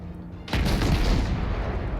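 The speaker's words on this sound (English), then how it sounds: "We got some shots flying in his direction." Naval gunfire in World of Warships: a sudden heavy booming blast about halfway through, followed by a sustained rumbling roar that stays loud to the end, with no talking.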